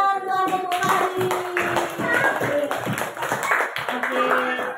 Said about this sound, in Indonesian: Tepuk tangan untuk Ibu Hari